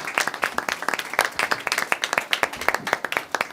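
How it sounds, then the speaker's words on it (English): A standing audience at a community candidates' forum claps in a bright, crisp round of applause, with individual hand claps clearly separated in an uneven rhythm for a few seconds. "Please rise and clap for the community because they've done a fabulous job."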